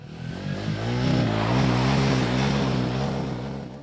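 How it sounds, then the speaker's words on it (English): Royal Enfield Himalayan 450 motorcycle fitted with an aftermarket accessory exhaust, its engine rising in a steady rev with a clear harmonic drone, loud and close, no voices over it. "Another accessory that is on this bike is the exhaust. This gives it the real rally look, but also makes a prettier sound."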